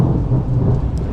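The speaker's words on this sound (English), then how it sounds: "it's just an absolute downpour right now." Heavy rain pours down at Lagoon amusement park in Utah, a loud, dense, continuous roar of falling water with deep rumbling underneath.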